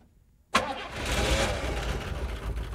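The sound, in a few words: car engine cranking and firing up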